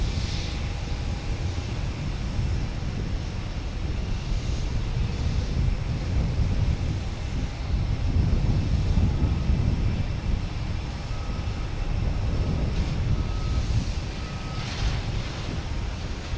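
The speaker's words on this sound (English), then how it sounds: "Delta taking off, heading to San Diego. A321 Neo, flight 571." A Delta Airbus A321neo airliner taking off at Boston Logan Airport, a steady, broad jet engine roar heard from a distance, sustained and even throughout.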